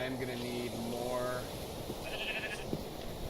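A sheep in the Minecraft video game bleats a few times, short wavering nasal cries at moderate volume, over faint game ambience with a couple of soft clicks.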